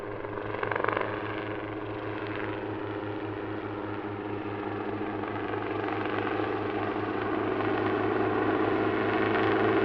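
A helicopter flying an aerobatics display at an airshow drones steadily with a deep rotor throb, holding loud and constant from nearby throughout.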